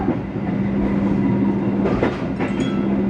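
The Argo Lawu passenger train, running from Solo Balapan station toward Jakarta, gives a loud, steady rolling rumble on the rails with a sustained low hum and a few brief rattling surges.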